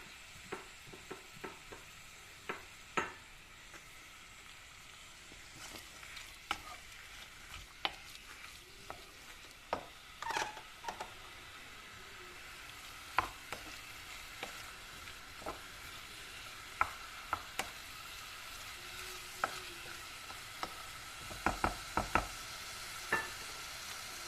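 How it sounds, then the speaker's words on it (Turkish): Onion, garlic and butter sautéing together in a pan, with a soft continuous sizzle and frequent light clicks and scrapes from a stirring utensil, close and fairly quiet, with no voices. "1 orta boy kuru soğan, 2 diş sarımsak, 1 yemek kaşığı da tereyağı. Hepsini birlikte güzelce kavuralım."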